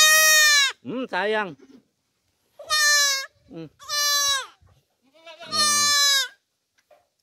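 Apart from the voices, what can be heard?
young goats bleating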